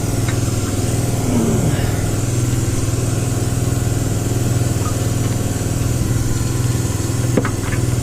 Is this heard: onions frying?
no